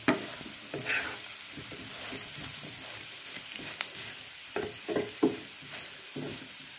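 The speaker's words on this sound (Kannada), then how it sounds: "ಒಂದು ನಿಮಿಷ ಚೆನ್ನಾಗಿ ಫ್ರೈ ಆಗಿದೆ ಇದು" A spiced snack mixture fries gently in a pan on a low flame, giving a faint, steady sizzle broken by irregular scraping strokes of a spoon stirring it.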